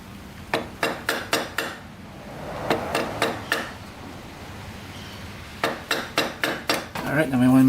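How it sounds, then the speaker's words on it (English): Sharp metallic hammer taps on a part of a Honda ATC 350X come in three quick bursts of four or five strikes each, close and ringing, with quieter clinking between. "hammer that a little bit so it doesn't fall off."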